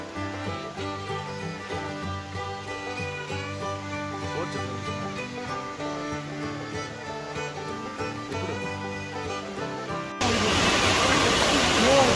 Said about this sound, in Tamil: போனப்போ பார்த்தீங்கன்னா ஃபால்ஸில் நல்லாவே தண்ணி வந்துட்டு இருக்கு